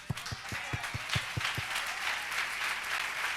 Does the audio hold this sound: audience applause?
yes